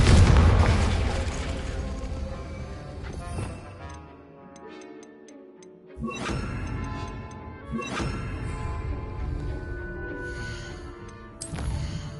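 A Confringo fire spell blasts in Hogwarts Legacy, a loud burst opening over a dense game score, followed by further booming hits and ticking clock-like clicks around the midpoint.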